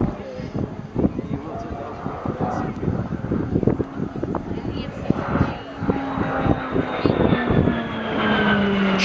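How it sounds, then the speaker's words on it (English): A Spitfire flies low past a crowd at an air pageant during a slow roll, its piston engine rumbling and growing louder, then droning past, with wind buffeting and a commentator talking over it. "Magnificent fly past there by the Spitfire"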